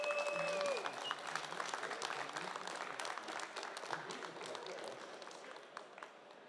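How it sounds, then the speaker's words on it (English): A crowd at a DreamHack esports match applauds steadily, clapping continuing at an even level before gradually fading slightly. "please a big round of applause"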